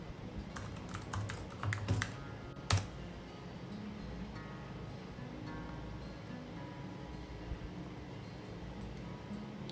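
Quick bursts of typing on a computer keyboard as a password is entered, clustered in the first three seconds with one sharp key hit, then fading to quiet room tone.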